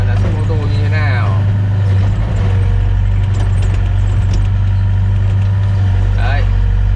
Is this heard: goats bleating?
no